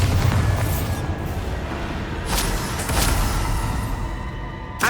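Explosions from the Bombarda spell during Hogwarts Legacy gameplay, a dense roaring rumble with a couple of sharp bursts partway through.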